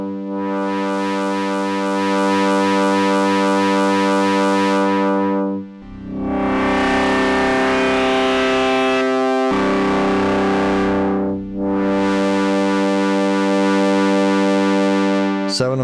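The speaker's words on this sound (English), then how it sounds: "So an effective little distortion there." A sustained synthesizer tone with harsh, gritty distortion, played in three long held notes with brief gaps between, loud and alone.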